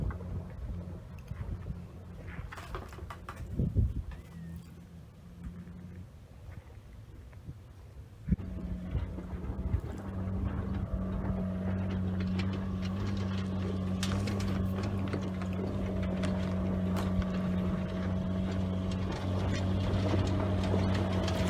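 Suzuki Geo Tracker off-road vehicles climb a steep, dusty hill trail, their engines a low, rough drone that swells into a loud, steady labouring hum partway through, with wind noise outside.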